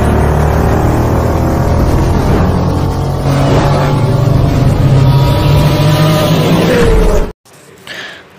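Motorcycle riding through Shanthi Nagar, Bengaluru, its engine a steady loud drone with wind rush for about seven seconds before cutting off abruptly to near silence.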